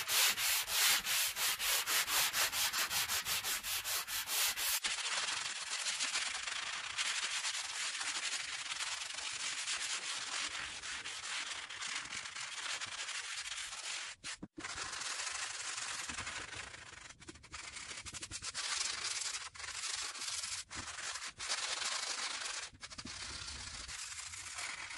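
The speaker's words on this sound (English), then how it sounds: "I've got myself a slightly worn in sanding block, and what I'm going to do is just go over the surface with this." A slightly worn sanding block rubs over a model road surface on a model railway layout, giving a continuous, close, scratchy rasp in steady back-and-forth strokes for the whole stretch, with no talking.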